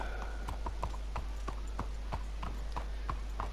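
A horse's hooves gallop steadily in Red Dead Redemption 2 as rapid rhythmic clip-clop beats, clear and close, set over a constant low background hum.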